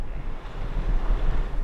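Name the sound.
Msta River water flowing during rafting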